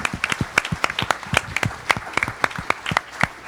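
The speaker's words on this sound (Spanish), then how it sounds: "Dele un fuerte aplauso al Señor." A church congregation claps during worship, with sharp, distinct handclaps that come close and loud in a loose, uneven rhythm rather than a dense roar.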